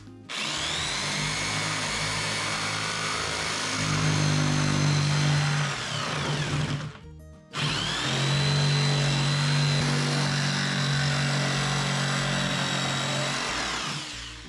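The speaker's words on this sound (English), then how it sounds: "So that's where I'm going to cut my outlet box." A power tool cuts an outlet box opening in a workshop wall panel during insulating work: two loud, sustained whirring, grinding runs separated by a brief pause, with no talk.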